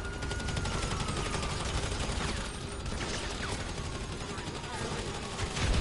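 Dense, continuous gunfire from the GTA 5 video game, with overlapping bursts of shots crackling steadily and loudly for the whole stretch, ending in a slightly louder surge.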